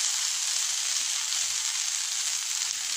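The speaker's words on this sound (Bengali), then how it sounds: "আমার খুব ইচ্ছা করতেছিল আপনার ফ্রাই টাইপের আলু ভাজা খাইতে, আমি এটা রান্না করতেছি" Potato fries cook in a pan of hot oil, giving off a steady, even, close-up sizzle with no break.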